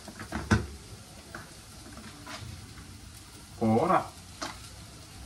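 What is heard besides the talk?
onions sautéing in a pan for chicken curry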